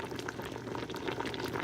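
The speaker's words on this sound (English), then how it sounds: "you want enough water in it to where it's boiling" Apples simmer in a pan of water at a rolling boil, giving a steady, close bubbling and crackling hiss that runs evenly throughout with no voices.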